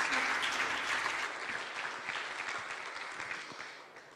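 Concert audience applauding a piano duo at a gala concert, a full hall of clapping that starts strong and gradually thins and fades toward the end.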